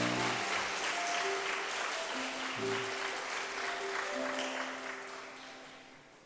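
A church congregation applauds during a worship service, a dense sustained round of clapping that holds steady and then fades out over several seconds, with a few faint tones sounding in the background.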